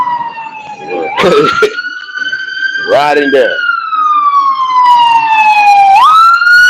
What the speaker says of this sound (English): Plus, I believe we had a fire because we still have fire trucks as we speak.